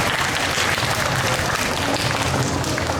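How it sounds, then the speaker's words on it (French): A festival audience at a cosplay contest claps loudly for the jury as they step on stage, a dense, continuous burst of applause from a full crowd. "On les applaudit fort."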